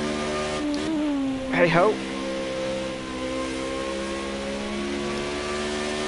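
A Formula Renault 3.5 race car in Project Cars 2 drones steadily with a sustained engine tone whose pitch slowly drifts up and down. A brief spoken exclamation rises over it near the start.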